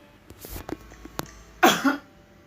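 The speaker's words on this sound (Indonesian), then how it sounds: "Batuk bun" A few soft clicks and clatters of dishes in a kitchen, then a single harsh cough up close, followed by a shorter second burst.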